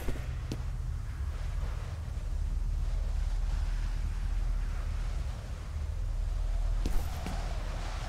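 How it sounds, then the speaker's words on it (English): Steady wind gusts roar across a high exposed area in the video game F.E.A.R., a continuous low rumbling whoosh that swells and eases over several seconds, with brief faint clicks and no talk. "it's windy up here"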